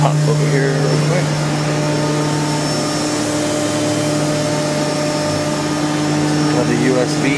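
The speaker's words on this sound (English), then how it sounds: "It does have a bit of a whine on the spindle, you can hear." Steady high spindle whine from a Haas VF-2SS vertical machining center, a constant tonal hum layered over broad mechanical drone, loud and unbroken throughout, with a voice faintly present.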